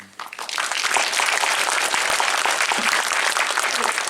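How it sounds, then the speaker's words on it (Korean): A cinema audience at a post-screening talk in the Korean Film Archive's Cinematheque KOFA theater bursts into applause that swells within half a second and stays loud and dense to the end. "감독님과 편집장님께 다시 한번 박수 부탁드리고요"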